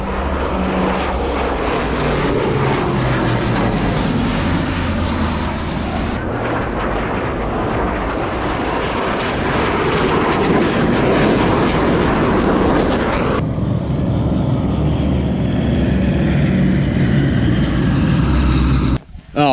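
A loud, steady airplane engine at an air show roars close by, a constant droning rumble that holds for the whole stretch before cutting off abruptly at the end.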